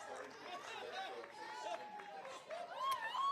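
Crowd noise at a high school softball game, Athens at Mabank: a steady, fairly loud murmur of spectators with chatter and occasional higher calls and shouts throughout, no clear single voice standing out.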